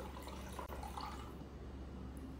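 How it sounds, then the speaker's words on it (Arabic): Olive pickling brine is poured from a jar into a cup, giving a steady, close trickling and splashing of liquid that runs unbroken and fairly quiet, with no talking. "فراح أفضي في كوباية بروحة كذي"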